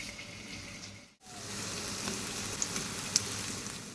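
Pointed gourd (potol) pieces frying in a pan give a steady, close sizzle with a brief dip partway through and a few faint clicks.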